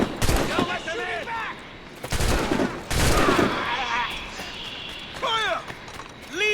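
A musket volley in the video game Assassin's Creed Rogue, with loud cracks of gunfire landing in quick bursts amid battle noise and shouting.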